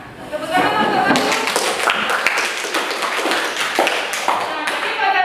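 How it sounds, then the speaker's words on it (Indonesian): Classroom applause for a student named Wahyu during a lesson on clinical thermometers: a few seconds of steady group clapping, with voices mixed in. "Tepuk tangan untuk Wahyu"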